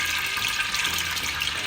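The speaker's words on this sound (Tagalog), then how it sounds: "So maglalagay na po tayo ng mantika." Cooking oil poured into a pan for deep-frying fish, a steady hissing liquid stream that runs unbroken and fairly close throughout.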